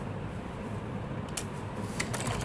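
Sewing machine stitching a ban neck piece with piping and lace, a faint rapid mechanical rattle running steadily with a few sharper clicks near the end, no talking.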